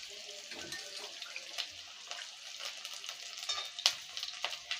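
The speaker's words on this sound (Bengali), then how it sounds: "এবার 1 চামচ মতন আদা রসুনের পেস্ট দেবো" Ginger-garlic paste hits fried onions in a pan for a Bengali fish-head and gourd dish, producing a close, continuous sizzle with watery hiss and scattered small pops, without speech.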